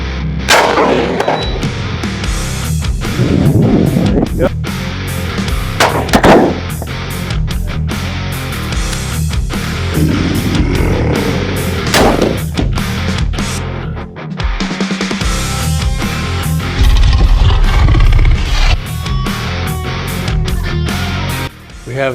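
A Tikka T3x rifle chambered in 6.5x55 Swedish Mauser fires a few loud, booming shots outdoors, each with a long rolling echo, spaced several seconds apart over steady background noise.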